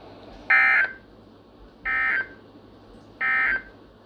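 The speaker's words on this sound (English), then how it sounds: "This concludes the tone alarm test." Three loud, identical tone bursts of an EAS emergency alert tone alarm test, each about a third of a second long and evenly spaced over quiet background hum.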